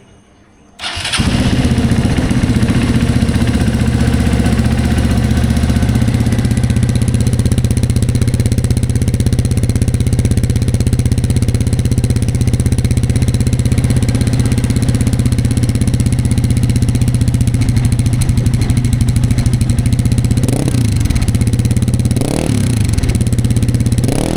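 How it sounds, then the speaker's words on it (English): Hero Xpulse 200 4V motorcycle fitted with a full-system exhaust fires up and settles into a loud, steady, close idle that holds evenly, with a couple of light throttle blips near the end. "let me show you how the exhaust sound. I've switched on the bike."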